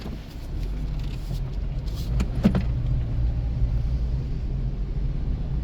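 A 2018 Toyota RAV4 driving slow, sharp circles during a pre-purchase inspection, a steady low engine and road rumble heard from inside with a few faint clicks and rattles.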